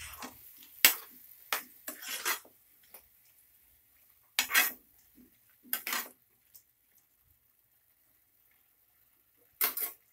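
Chopped tomatoes being stirred in a pan for tomato mushroom gravy: a scattered series of sharp utensil scrapes and clinks against the pan, close and loud, separated by quiet pauses with no voices.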